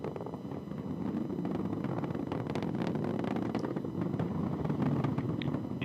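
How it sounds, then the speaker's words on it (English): An Atlas V's RD-180 rocket engine roars in a Kerbal Space Program recreation of the SES-20 and SES-21 launch, a continuous broadband rumble with crackling bursts that holds steady and slightly swells over about six seconds. "And the RD-180 is now throttling back up as expected."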